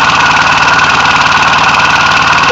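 A 5HP re-compression engine running on air or steam chugs in a steady, fast, loud rhythm close up, with a continuous mechanical hiss and vibration throughout.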